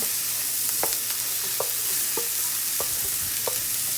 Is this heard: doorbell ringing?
no